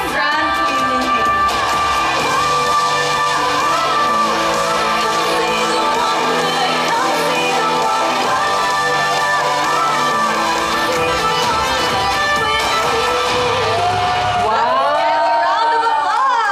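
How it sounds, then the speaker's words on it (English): A crowd cheers and shouts at a homecoming celebration for a beauty pageant runner-up, loud continuous whoops and voices mixed with music, with the clamour dropping away near the end. "Round of applause!"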